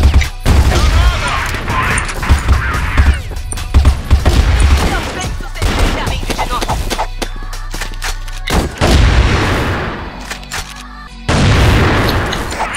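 Grenade explosion in a first-person shooter game, a heavy boom amid rapid gunfire bursts, loud and close, with a player's voice shouting over the chaotic firefight.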